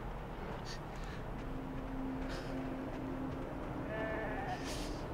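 Sheep bleat faintly in the video game Beyond: Two Souls, a couple of thin cries over a steady ambient hiss with no one speaking.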